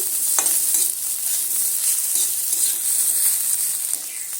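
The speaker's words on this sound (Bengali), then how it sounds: "সমস্ত কিছু আরও মিনিট দিনের সময় নিয়ে আরও একটু সুন্দর করে ভেজে নিচ্ছি" Peas, carrots and beans fry in a pan, giving a steady bright sizzle with a few scraping stirs against the pan, close and loud, with no talk.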